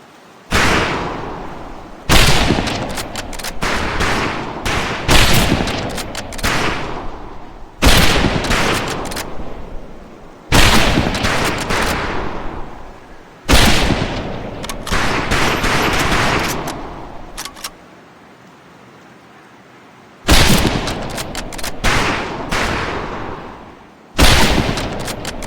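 Rifles crack in rapid, loud volleys at a recruit shooting range in Medal of Honor: Pacific Assault, with dense bursts of gunfire broken by short silent gaps.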